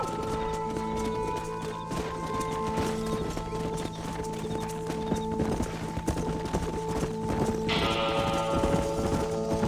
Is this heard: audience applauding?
no